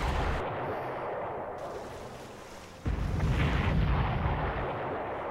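Battleship guns firing in the Panzer Corps strategy game: a steady rumbling barrage of booms that jumps louder about midway and stays heavy and continuous, with no talk.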